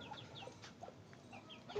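A small chick calls in a farmyard with a rooster and cattle nearby, giving a few faint, scattered chirps over low ambient noise.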